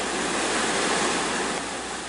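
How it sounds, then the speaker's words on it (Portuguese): Floodwater rushing down from a forest during heavy rain near the Paraíba river, a dense continuous roar with no breaks. "A água que desce da mata arrasta tudo pela frente"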